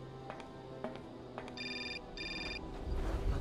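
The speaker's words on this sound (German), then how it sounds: "Ah, das Telefon." A telephone rings indoors with two bursts of electronic ringing at moderate volume, while footsteps and light room noise continue underneath.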